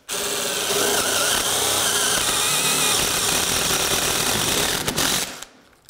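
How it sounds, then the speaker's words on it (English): A compact pistol-grip drill bores a hole through flooring during a renovation, whirring and grinding loudly and steadily for about five seconds before cutting off. "now I can drill a hole through here."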